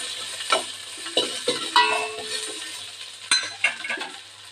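Chopped onion, tomato and a green chili sautéing in a pan for idi sambar, with several sharp spoon clinks against the pan over a soft, low sizzle, no talking.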